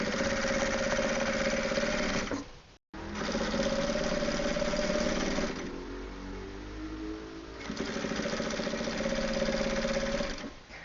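A sewing machine runs steadily, stitching a fabric phone wallet made of denim and cloth, with a dense continuous whir that pauses briefly once and eases in tone midway before resuming at full speed.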